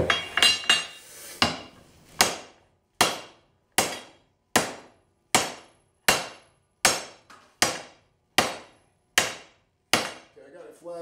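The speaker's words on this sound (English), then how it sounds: "I got it flat enough now that I can hammer right on the weld" Heavy hammer strikes on a flattened mild steel tube, right on its TIG weld to spring steel, about a dozen loud ringing blows at a steady, slow rhythm, each decaying before the next.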